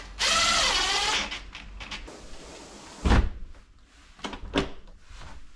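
A sliding door on a rental house rattles and rumbles along its track, ending in a thud and a few clicks as the latch engages nearby; a short whirring mechanical burst opens the sequence.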